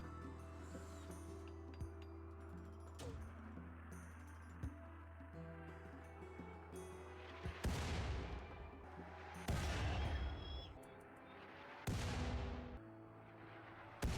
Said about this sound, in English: load them into the mortar to start firing on the mechanoids